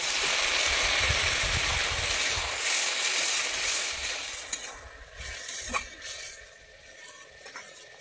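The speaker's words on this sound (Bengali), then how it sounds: "এবারে আমি দিয়ে দিচ্ছি পরিমাণ মতো জল।" Water is poured into a pan of hot oil where fried okra and spices are cooking for a vegetarian okra posto. A loud, rushing sizzle bursts out, then gradually fades to a softer bubbling with a few small pops.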